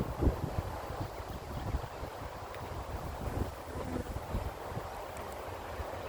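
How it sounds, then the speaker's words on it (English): Outdoors at beehives in a light breeze, wind buffets the microphone with a constant low rumble and gusty rustle, fairly loud and steady, with no voices heard. "Camera's moving, you can probably tell it's a little breezy."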